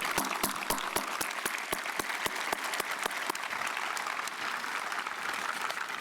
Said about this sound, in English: I ask that you give these individuals a round of applause